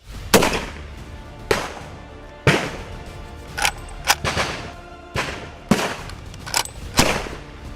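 Gurkha soldiers fire guns during an army battle drill, with loud, sharp single shots cracking out at irregular intervals, some closer together, echoing across open ground.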